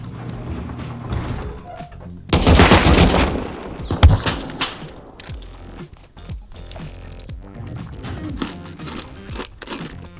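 Bursts of AK rifle fire in the game Rust, a loud sustained volley near the start followed by scattered sharper shots and mechanical clicks, with no talking.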